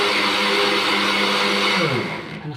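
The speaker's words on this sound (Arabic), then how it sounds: "وهنضرب الخليط تاني" An electric mixer whirs loudly and steadily as it beats cake batter with vinegar and vanilla, then winds down toward the end.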